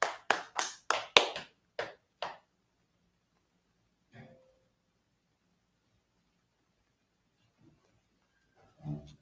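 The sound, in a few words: audience clapping for the class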